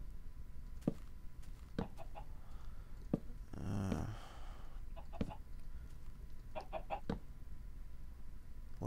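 A chicken clucks in the Minecraft video game, short sharp clucks scattered every second or two over a low steady background hiss, with a brief rumbling burst midway and no talk.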